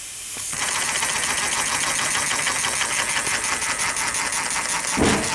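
A small Stuart D10 model steam engine runs with badly leaking steam, giving a fast, steady mechanical chuffing under a continuous hiss, fairly close, with no talking.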